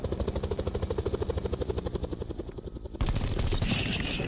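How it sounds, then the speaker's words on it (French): A helicopter attack in the video game Blackout, with a rapid, loud rotor-like thudding that pulses steadily and then shifts into a denser, harsher roar of gunfire and engine noise. "je l'ai tué avec l'hélicoptère"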